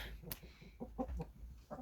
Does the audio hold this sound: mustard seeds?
no